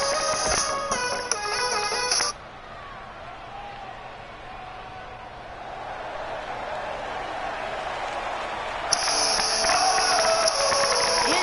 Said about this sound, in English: And the crowd on their feet for the man.